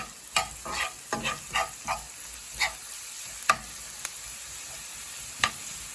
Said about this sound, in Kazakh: Осылай майда жуамыз бен сәбізімізді қуырып аламыз.